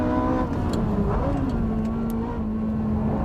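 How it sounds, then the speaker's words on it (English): Porsche 996 Turbo accelerating hard at mid speed in a race against a Nismo GT-R, engine note a loud steady drone climbing slightly in pitch throughout, close and continuous. "The Porsche with the mid-speed acceleration."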